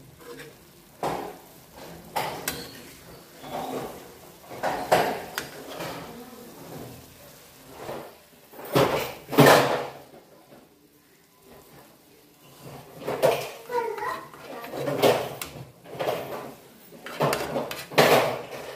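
A pan and utensils clattering as eggs are turned for egg tawa masala, irregular bursts of metallic clanks and scrapes spread over the whole stretch, close and fairly loud with quiet gaps between.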